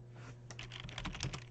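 Keyboard shortcuts typed on a computer keyboard, quiet and close: a quick run of about a dozen light key clicks over a steady low hum.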